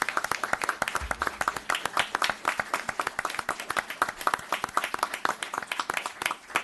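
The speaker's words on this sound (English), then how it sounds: "I would expect a very, very big round of applause for Sergeant Mike Tillistrand" An audience at a town board meeting claps in a round of applause for a sergeant. Sharp, separate handclaps come in a steady patter of moderate loudness that holds throughout, with no talk over it.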